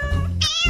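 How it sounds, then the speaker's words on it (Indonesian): A cat gives a single short meow, close and clear, lasting under a second. "Girls, lihat itu kucing."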